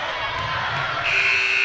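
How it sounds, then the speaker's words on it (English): At a 2009 women's college basketball game, a sustained buzzer tone rises over the steady roar of a clapping, cheering crowd in a gym, loud and continuous. "buzzer sounds, fans applaud"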